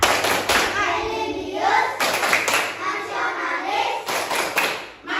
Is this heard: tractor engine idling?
no